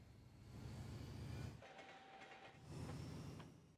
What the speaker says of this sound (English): Wondering if we should call a train.